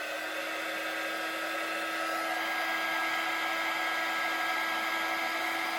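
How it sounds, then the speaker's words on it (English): A heat gun blows steadily over a handmade card, a continuous whirring hiss with a faint steady whine, constant in level throughout and not loud, with no talk. "You could get a few cards like this ready and then use your heat gun."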